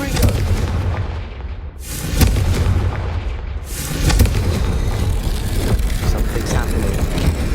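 A Confringo fire spell exploding in the Hogwarts Legacy video game: loud, heavy booming blasts with a dense rumbling roar that swells again after a brief dip and keeps going to the end.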